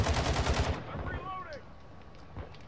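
Rapid bursts of automatic gunfire from the multiplayer shooter game Modern Warfare 2, loud and dense for under a second, then fading into quieter game effects while a voice talks faintly.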